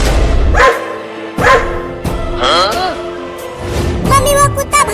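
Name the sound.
dog barking in a cartoon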